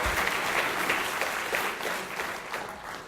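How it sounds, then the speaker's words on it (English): A small audience claps steadily in a tech conference room, a dense, continuous patter of many hands held at even loudness for about three seconds with no voice over it. "Keep clapping."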